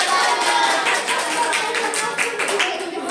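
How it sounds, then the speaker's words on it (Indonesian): Students in a classroom clap for a group that has just presented, a dense burst of hand claps filling the room with some chatter mixed in. "Tepuk tangan untuk kelompoknya"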